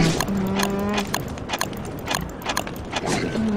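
Pigs brawling in the video game Don't Starve: a dense, continuous clash of game creature noises with grunting tones and thudding hits, steady and loud throughout with no talk.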